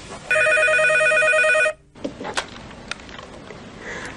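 A telephone rings loudly with a steady electronic ringing tone that lasts over a second, then cuts off and leaves faint clicks and handling noise.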